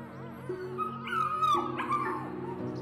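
Excited puppies in a pen on a mountain farm yip, whine and whimper in quick overlapping bursts, close by and fairly quiet.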